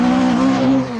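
Rally car engine at the 1982 Lombard RAC Rally, droning loud and steady on the Croft rallycross circuit, a sustained buzzing note holding nearly constant before easing slightly at the end.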